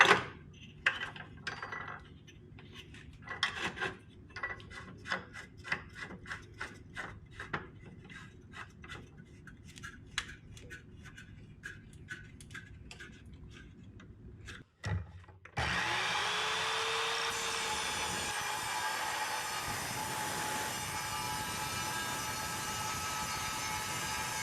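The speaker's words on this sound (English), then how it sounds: "Let's try cutting this on a miter actually." An Evolution R210CMS metal-cutting miter saw first ticks and clatters in short bursts, then spins up and bites into steel tubing with a sustained, loud grinding whine that holds steady to the end.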